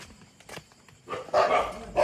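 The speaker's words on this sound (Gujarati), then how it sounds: "કૂતરા ભસવા લાગે છે" Dogs bark outdoors near fields at night, a few quiet yips first, then two louder, fuller bursts of barking close by.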